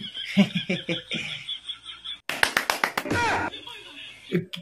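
A quick run of sharp hand claps, about six in a row, close and loud, bracketed by people talking during a tuition class scene.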